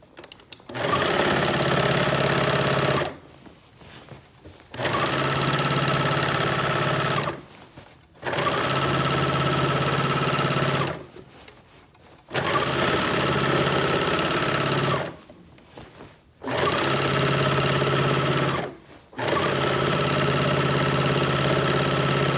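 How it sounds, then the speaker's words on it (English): Serger overlocking the fabric edge of a Yup'ik qaspeq, close and loud in repeated runs of a few seconds each, a rapid mechanical whir broken by short quiet pauses, no voices. "I might as well show you my handy dandy serger. When I'm serging, I always start in the back as well."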